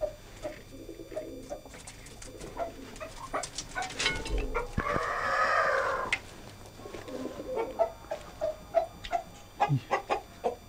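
Chickens cluck and squawk close by in short, repeated bursts, with a longer rooster-like call in the middle and scattered bird chatter around it.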